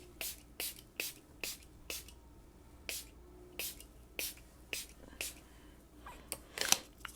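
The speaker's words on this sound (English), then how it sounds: "And we're going to spray our face." Repeated short hissing bursts of makeup setting spray misted onto a face, about a dozen quick pumps in an irregular rhythm, close and crisp.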